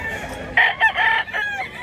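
A rooster crows loudly and close by at a chicken market in Mantalongon, Barili, Cebu, one drawn-out, broken call lasting over a second against faint background noise.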